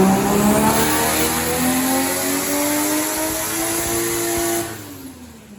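A Mk3 Toyota Supra with a 1JZ engine revs hard on a dyno pull. The loud, sustained engine note climbs steadily in pitch for about four and a half seconds, then drops away as the throttle closes.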